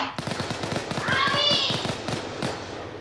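Rapid automatic gunfire in the PayDay 2 video game, a steady stream of evenly spaced sharp shots rattling at high rate for about three seconds, with faint voices underneath.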